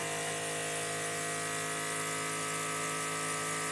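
A vacuum-assisted backing board holds a wood panel down for sanding, giving a steady, loud, even mechanical hum and hiss with no break or change across the whole stretch and no voices.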